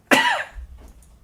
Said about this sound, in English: there goes the coughing again